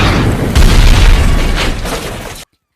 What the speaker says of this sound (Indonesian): Ledakan dari bazooka membuat peralatan canggih Jane meledak dan akhirnya meledakkan semua yang ada di sana.